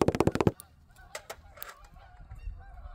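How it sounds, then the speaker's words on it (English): Snow geese honk in a quick burst of loud, clustered calls at the start, followed by a few scattered distant honks and faint rustling. "I don't even know if they're called snow geese"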